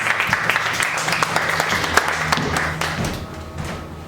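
A comedy club audience gives a dense round of applause with scattered whoops, close and lively, thinning out over the last second.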